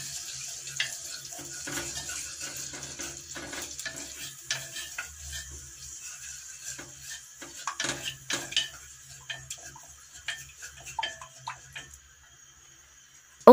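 Tajine sauce with red pepper is stirred in a pot, with a gentle bubbling sizzle and scattered clinks and scrapes of a spoon against the pot over about thirteen seconds, close up and with no speech.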